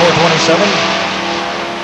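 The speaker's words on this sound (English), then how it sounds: "Frank J. Goddard from Harris, Ontario, in a 350 Vega, a student, versus a 1982 Camaro owned by Stanley Winkler" Cars at a drag strip, a 350-powered Vega against a 1982 Camaro, roar loudly and steadily for nearly two seconds, with engine tone and some tire noise blended into the crowd-level racket.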